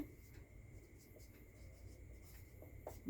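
Pen writing out a binary addition problem, heard as faint, soft scratching strokes over a low, quiet room hum, with no voices.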